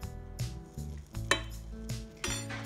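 Metal clanks and clinks against a frying pan several times, close and fairly quiet, as a lid is set down and adjusted over pancakes cooking.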